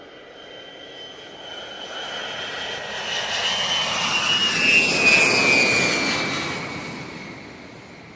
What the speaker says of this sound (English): It's the AWACS, NATO AWACS Special Anniversary Markings.